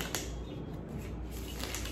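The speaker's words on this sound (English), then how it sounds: "The easiest method to shuffle the deck is to use your middle finger and your index finger to push" Quick riffling and tapping of a tarot card deck being shuffled by hand, a close, soft flurry of light clicks and flutters with no talking.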